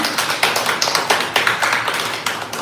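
Audience applause at a talk concert in Korea, a crowd clapping in brisk, uneven bursts with sharp tapping transients, fairly close and steady throughout, with no voices over it.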